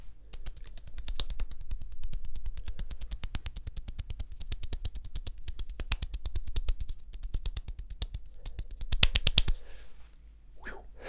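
Rapid fingertip tapping on a bare, muscular forearm, close up and dry, in a dense steady stream of crisp taps that speeds into a near-continuous rattle before stopping, followed by a brief rustle.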